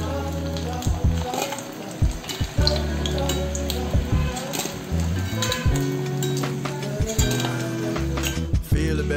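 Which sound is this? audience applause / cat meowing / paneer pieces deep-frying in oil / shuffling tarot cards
paneer pieces deep-frying in oil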